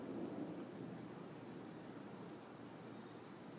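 Steady rain pours outdoors during a long, loud thunderstorm, with a low rumble of thunder underneath; the wash of rain is continuous and fairly even, and no voices are heard.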